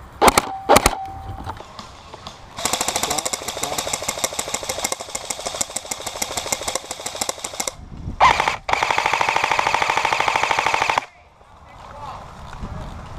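Rapid bursts of airsoft gunfire during an outdoor airsoft game, a long sustained volley then a second burst after a brief pause, loud and close, with a few sharp single shots at the start and players shouting around it.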